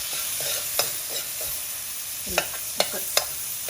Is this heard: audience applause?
no